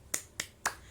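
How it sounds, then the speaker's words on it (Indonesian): A teacher's rhythmic spirit clap at a classroom-style session: three sharp, evenly spaced claps that sound like snaps, close and fairly quiet against a faint background hiss. "Kita tadi tepuk semangat biar tidak ngantuk ya Bu."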